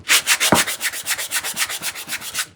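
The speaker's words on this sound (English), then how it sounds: "I could sand it more if I was really worried about it" Sandpaper rubbed back and forth over a paint inlay on a wooden craft piece, a quick rhythmic scratchy swish repeating about every fifth of a second, close and steady, with no speech.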